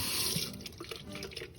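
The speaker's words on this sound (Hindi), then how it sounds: "इतना पानी जो इसमें डाला है" Water poured into a cooking pan while making pan-cooked chicken tikka, a steady running stream like a tap filling a vessel, close and continuous throughout with no talk.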